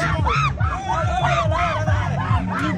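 A large crowd of pilgrims at a temple, many voices yelling and calling out together in a loud, steady, rhythmic din close by.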